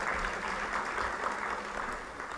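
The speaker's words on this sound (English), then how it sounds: "Let's give him a big round of applause." Soft, steady applause from a conference audience at a Global Entrepreneurs Conclave, a distant, even patter of clapping that holds level throughout.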